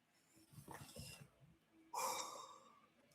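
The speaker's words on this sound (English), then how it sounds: "Sorry for that yawn" A person yawns with a drawn-out breathy inhale, then a louder open-mouthed exhale, close and alone with no speech.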